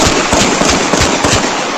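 Gunshots picked up by a Ring doorbell camera outside an apartment, a dense run of sharp cracking reports over about two seconds, loud and continuous like rapid fire, with no voices.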